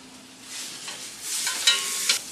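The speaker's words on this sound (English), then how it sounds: "second piece of pork going in the stock pot" A browned piece of pork lowered into a stock pot of pozole broth brings a soft stir and bubbling sizzle that grows brighter with a few small splashes, close and moderately quiet, with no talk.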